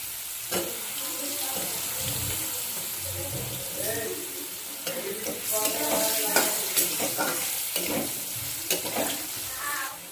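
Potatoes sizzle in a hot pan for a fish curry with cucumber, with scraping stirs and clinks, a steady frying hiss growing busier midway.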